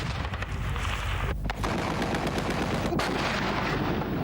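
Dense, loud gunfire and artillery fire from documentary war footage of the siege of Grozny form a continuous roar of rapid shots and booming blasts, with two sharper cracks standing out partway through.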